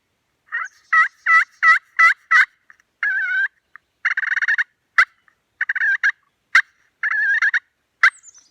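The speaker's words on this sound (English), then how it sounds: "sound more like a Jake yelping, or just want a little bit more volume, you can go down to the center of your call" A slate pot turkey call is scratched near its center, giving a run of five sharp rising yelps followed by several more separated clucks and yelp series, loud and close with no talking.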